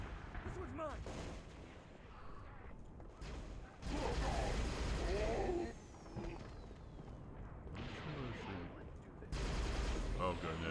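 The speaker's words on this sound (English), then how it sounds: "I'm actually gonna change to a plasma repeater if we're gonna keep firing." A plasma repeater fires in Halo Reach in two loud, rapid bursts of energy shots, the first lasting over a second and the second starting near the end. Quieter battle noise from the game fills the gaps between them.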